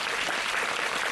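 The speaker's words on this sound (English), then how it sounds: "Let's give a round of applause to director" Audience applause following a post-screening talk in Hong Kong, a dense, steady patter of many hands clapping at once, moderately loud and continuous with no voices rising above it.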